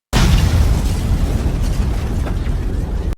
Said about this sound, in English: Wounded, Dio detonates a grenade he had prepared earlier, causing an explosion that destroys the apartment and kills them both.